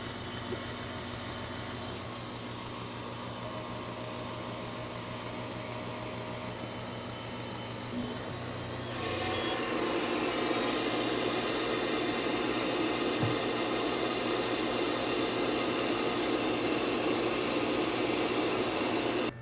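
The exhaust fan of an Xtool M1 10W diode laser spins up partway through, a low steady hum jumping to a louder, broadband rushing whir of air that holds steady and close.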